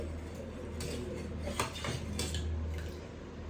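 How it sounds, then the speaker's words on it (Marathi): Dal (cooked lentils) being mashed in a pot with a spoon, giving a steady scraping and clinking of metal against the pot, with a few louder strokes repeating in a loose rhythm, close and without talk. "त्यासाठी मी ही जी डाळ आहे ही डाळ अशी घोटून घेते"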